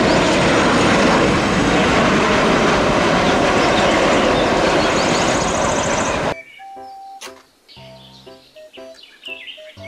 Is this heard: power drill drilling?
no